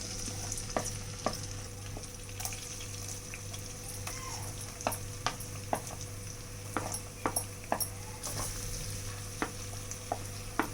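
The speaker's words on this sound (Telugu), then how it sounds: "ముందుగా ఆయిల్ వేసేసుకుందాం. ఆనియన్స్, పచ్చిమిర్చి వేసేసుకోండి." Onions and green chillies fry in hot oil for pasta, giving a steady sizzle throughout with scattered clinks and scrapes from stirring.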